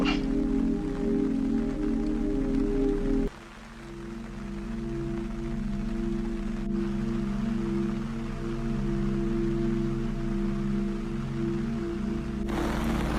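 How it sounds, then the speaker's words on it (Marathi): Heavy rain falling in a jungle camp, a dense continuous wash of drops with a steady low rumble, loud and close, dropping briefly in level partway through before resuming. "बघू शकता खूप असा पाऊस आलेला आहे"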